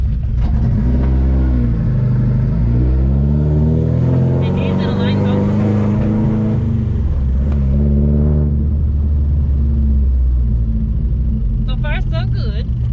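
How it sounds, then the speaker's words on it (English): A Honda CRX Si driving around a parking lot, its engine droning loud and close with rising and falling revs as it pulls away and slows, with people talking over it from inside. "So now I want to go ahead and actually take you for a little spin around the parking lot."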